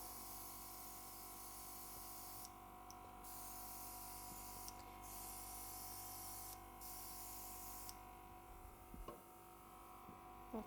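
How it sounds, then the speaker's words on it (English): An airbrush sprays coloring onto still-wet chocolate on a cake decoration. A steady, soft hiss runs under a low, constant hum, broken by several brief pauses. "airbrush it"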